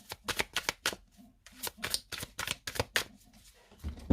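Tarot cards being laid out one after another, a quick run of crisp close flicks and taps on a surface, alone without talk.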